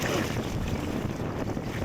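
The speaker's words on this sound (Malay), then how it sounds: "Kuat angin." Strong sea wind buffets a fishing kayak off Johor, a loud, gusty roar of wind across the microphone mixed with waves, with no voices during the brief stretch.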